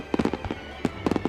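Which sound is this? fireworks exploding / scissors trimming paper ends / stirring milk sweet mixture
fireworks exploding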